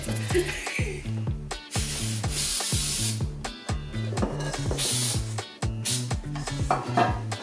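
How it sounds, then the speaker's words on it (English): Repeated hissing bursts of cooking spray onto small loaf pans, several in quick succession, close and loud, with rhythmic rattling underneath. "So if you could just spray the pans."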